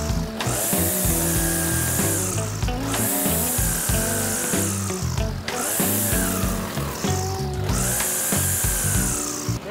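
A mini power tiller cuts tall grass in a field, its engine running loud and steady throughout, with a harsh, rasping cutting roar that swells and dips in repeated surges.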